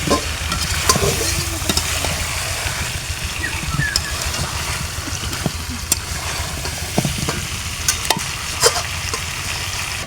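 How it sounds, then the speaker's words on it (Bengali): Potatoes are stirred into a spiced curry in a pot on a clay stove: a close, continuous sizzle with scraping and clacking stirs throughout. "আলুগুলো দিয়ে ভালোভাবে নেড়ে দিচ্ছি"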